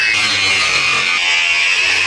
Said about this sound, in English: I'm gonna cut these hinges off.